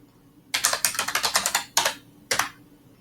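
Typing on a computer keyboard, a close, crisp run of rapid keystrokes for about a second, then a couple of separate single taps after short pauses, in a quiet room with no speech.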